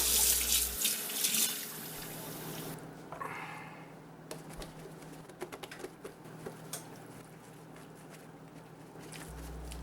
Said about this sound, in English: Now we remove the turkey from the brine and thoroughly rinse it off